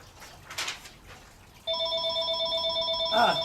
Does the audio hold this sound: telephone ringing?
yes